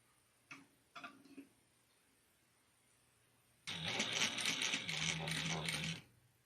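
A sewing machine stitches across the folded edge of a fabric pouch, a steady mechanical whir lasting a few seconds after a quiet stretch with a few small taps.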